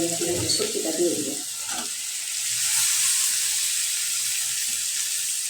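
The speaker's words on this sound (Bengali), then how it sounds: "সামান্য একটু রসুন বাটা মশলাটা ভালো করে কষাই নেব" Garlic paste and turmeric sautéed in a pan for a dried-fish curry with potato, aubergine and bottle-gourd greens, a soft steady sizzle that continues after a brief spoken phrase at the start.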